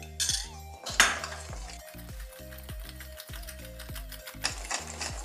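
A Mysore pak mixture cooked with ghee is stirred in a pan, with a rhythmic series of scraping, clinking strokes of a spoon against metal, close and fairly quiet, with no talking.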